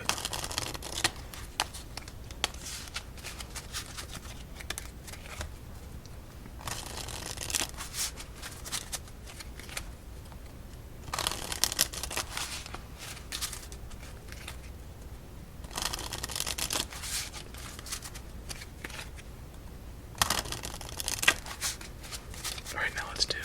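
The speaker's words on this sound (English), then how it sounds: "Alright, 5 shuffles and 5 series of cuts." Cards are riffled and shuffled repeatedly in bursts with short pauses between, close up, with soft speech in places.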